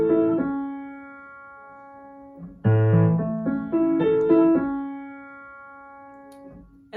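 Piano arpeggios from a tutorial, played alone with sustained ringing notes; a held chord opens, then a louder rolling broken-chord passage builds from about the third second before decaying.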